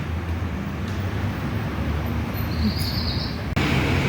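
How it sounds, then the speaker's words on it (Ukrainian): Birds chirping in a small city park square, heard faintly against a loud, steady bed of outdoor traffic-like rumble, with a brief higher chirping passage partway through. "І навіть тут пташки так співають."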